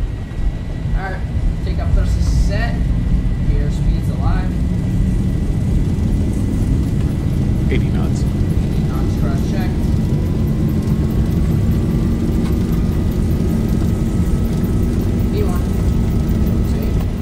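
Simulated airliner engines spool at takeoff thrust during the takeoff roll in X-Plane 11, a loud, steady roar with a slowly rising whine throughout.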